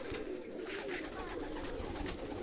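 Pigeons, including a frilled hen, cooing softly in a loft amid steady background noise, low murmuring calls repeating throughout.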